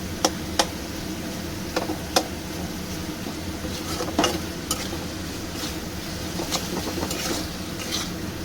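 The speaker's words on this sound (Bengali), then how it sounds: "আবার মশলাটা একটু কষাবো।" Spice paste cooking down with tomato in a pan for a taro and prawn curry, giving a continuous sizzle broken by sharp spatula taps and scrapes at irregular intervals, close and moderately loud.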